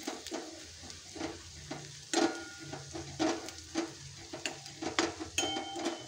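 Dal khichadi mixture stirred in a pan over low heat, with ginger-garlic paste in it, giving repeated scraping strokes over a soft sizzle, close and moderately loud with no talking.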